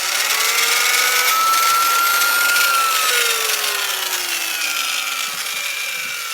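Heiniger Extra sheep clipper with a stripped gear running loudly, a steady harsh mechanical whir with a rising and falling whine held close and alone throughout.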